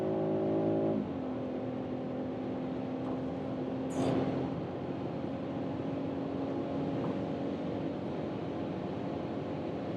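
Inside a BMW X3 M50 in sport mode, the six-cylinder engine hums steadily and shifts pitch as the car accelerates, with a whooshing burst midway, heard from the cabin with no talking.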